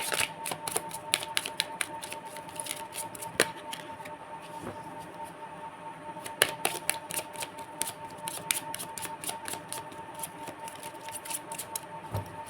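Tarot cards being shuffled by hand, a soft, close series of rapid papery flicks and riffles with irregular clicking taps, fairly quiet and continuous, with no talking.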